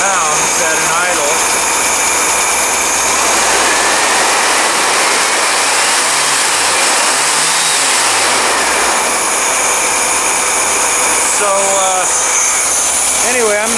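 A car engine idles steadily and loudly up close with a constant droning rumble and a slow rising and falling low hum, while someone talks over it.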